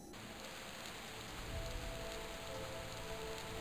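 Heavy rain pours in a video game, a dense continuous hiss of falling drops, fairly soft and steady throughout with no voices.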